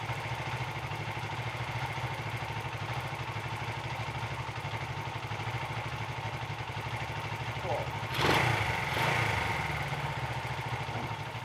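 Honda 125 CB Twin motorcycle fitted with new carburettors idling steadily close by, an even low putter with a brief rise in revs partway through.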